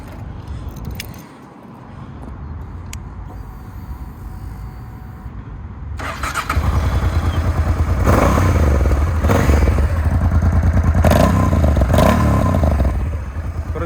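A Honda XL motorcycle from 2009 starts after some quieter handling noise, then runs with a steady, loud idle and a few revs, close by.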